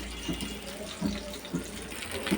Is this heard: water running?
yes